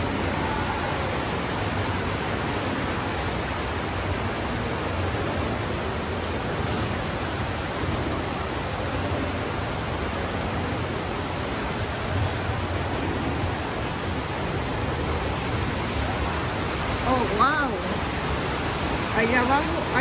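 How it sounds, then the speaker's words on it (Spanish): A waterfall at a scenic spot sends up a steady, dense rushing roar that holds at an even level for the whole stretch, with no breaks. "Acá es como una caída de agua muy bonita también."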